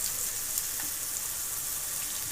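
Prawns fry on a hot oiled tawa over low gas, a steady, even sizzle that holds at the same close level throughout with no talk.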